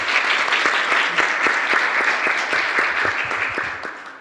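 An audience at a youth session of a forum on refugees in Jeju claps steadily for the panel, loud and sustained before fading slightly at the end.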